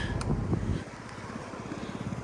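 A Yamaha Jog SA36 fuel-injected scooter engine idles steadily at close range, a low even rumble with a brief louder burst at the start.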